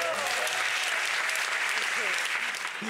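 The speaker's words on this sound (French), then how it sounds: "On peut applaudir encore, Michel" Brief burst of audience applause following a family joke, dense clapping over a few seconds with faint voices murmuring underneath, tapering slightly at the end.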